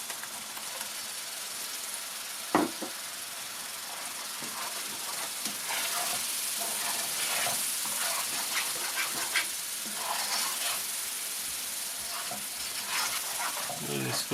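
Tomato paste sizzles and hisses in a pan of fish curry masala, a steady broadband frying noise throughout with scattered stirring clicks and one sharp knock near the start.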